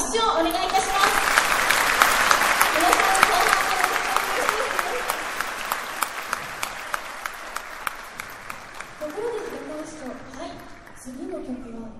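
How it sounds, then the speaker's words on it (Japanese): A large audience applauds warmly at a Japan Ground Self-Defense Force 10th Division music festival, the dense clapping sustained for several seconds before thinning out, with an announcer's voice near the end. "大きな拍手をお願いいたします"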